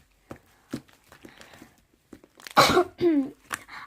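A couple of loud, harsh coughs close to the microphone, preceded by soft rustling and small clicks.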